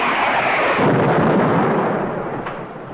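A space missile salvo fires in a radio drama. A heavy booming blast swells into a broad roaring rumble that fades over a few seconds, with a faint crack near the end and no voices over it.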